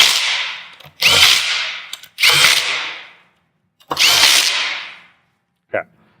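A power tool tightens fasteners on a Toyota Prius hybrid battery during a rebuild, giving three loud close whirring bursts about a second long, separated by silence, then a short final blip.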